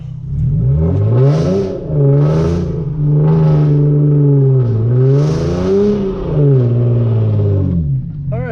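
A Hyundai Genesis Coupe on a wet road revs hard again and again, the engine note climbing and falling in about six loud, close surges with a whirring edge.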